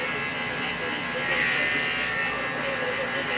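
Electric hair clippers run with a steady, close buzz while cutting a low skin fade at a barbershop, the hum continuous and even throughout.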